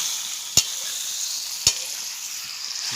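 Food fries in hot oil in a pan with a steady, bright sizzle, broken by two sharp scrapes of stirring about a second apart.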